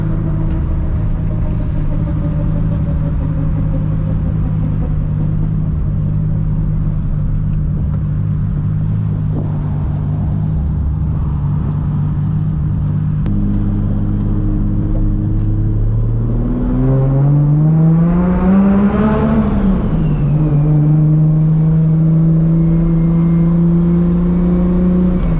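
A 1000HP Toyota Supra MK4 cruises with a steady, loud engine drone, then revs up sharply with a rising and falling whine before settling back into a lower, smooth cruise; no talking.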